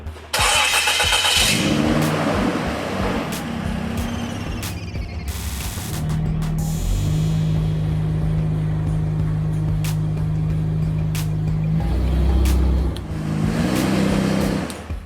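A car engine starts and revs, then the car idles and eases forward to drive over a Pelican 1200 case, giving a loud steady hum close by with a few short bumps and clicks.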